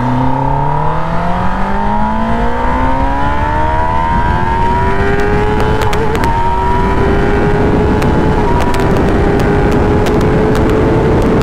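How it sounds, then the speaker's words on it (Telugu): A 2021 Kawasaki ZX10R sportbike accelerates hard, its loud, close engine howl climbing steadily in pitch through the gears with a brief dip at a shift, under constant wind roar. "సో ఇప్పుడు మనం ఒక్కసారి ఒక రౌండ్ వేసుకొని జస్ట్ మీకు ఒక గ్లిమ్స్ ఇస్తాను బండి ఒక యాక్సలరేషన్ది ఎంత ఘోరంగా ఉంటుందని"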